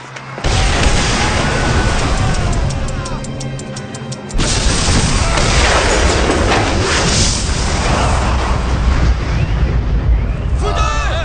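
A bomb explodes in a martial arts film scene, with a loud blast followed by a roaring rumble, then a second heavy burst that sustains a dense, crashing din, with voices mixed in.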